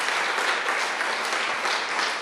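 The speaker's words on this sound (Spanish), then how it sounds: "Del aplauso al Eterno." A church congregation applauds throughout, a dense, even clapping that holds steady at close range with no voices over it.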